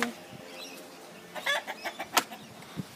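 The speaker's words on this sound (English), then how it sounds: "That rooster is a bloody annoying freak." Chickens and a rooster cluck in a backyard flock, a scattered run of short, sharp clucks and squawks in the second half, fairly close.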